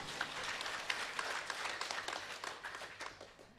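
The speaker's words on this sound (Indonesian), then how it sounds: "Sekali lagi tepuk tangan untuk Yesus" Church congregation at a Sunday service clapping their hands, a faint, steady patter of many hands at a distance for a few seconds with no one talking.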